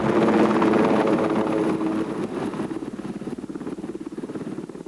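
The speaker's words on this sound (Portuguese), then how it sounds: "que vai num helicóptero do Exército" An army helicopter's rotor thuds loudly and steadily, its engine roar gradually easing as it moves off.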